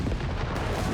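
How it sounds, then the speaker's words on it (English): Heavy 50mm gunfire in a Company of Heroes 3 battle rolls as a dense, continuous barrage of booming shots, loud and close throughout. "Heavy 50mm gunfire here."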